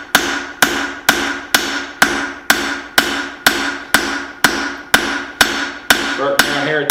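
A hammer strikes a hot leaf spring steel cleaver blade during forging, about a dozen loud, evenly spaced ringing blows at a steady rhythm, each with a short metallic decay.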